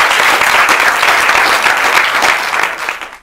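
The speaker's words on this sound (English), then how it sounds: "a green light for some applause, please" Loud, dense applause from a FameLab Mauritius 2017 science-communication audience for finalist Ashley Pourroy, sustained clapping close by that fades out over the final half second.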